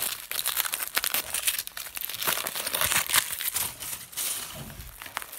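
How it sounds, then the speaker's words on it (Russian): The foil layer of a LOL Surprise ball is unwrapped up close, with continuous crisp crinkling and crackling that rises and falls in bursts for several seconds. "Так, теперь фольга."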